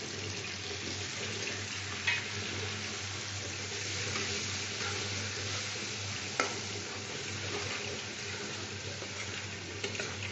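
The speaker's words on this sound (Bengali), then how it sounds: "এইবার আমি একটু জল দিয়ে কষিয়ে নেব।" Spices and chilli powder sautéing with a little water in a pan, a steady sizzle with occasional scraping stirs and a couple of sharp clinks, no voices.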